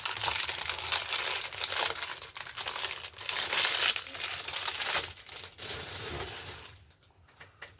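A Temu package being cut open, a close, steady run of loud crinkling and tearing plastic with brief pauses, fading toward the end; no speech.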